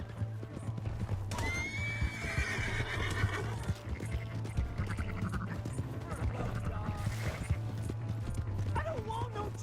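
Horse in Red Dead Redemption 2 neighs loudly and gallops with steady clip-clop hoofbeats, mixed with game music, shouting and other in-game sounds throughout.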